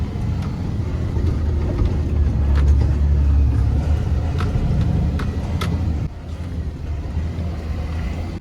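A truck engine idles at a canal construction site, a close, steady low rumble with faint clatter that drops to a softer running level near the end, with no talking.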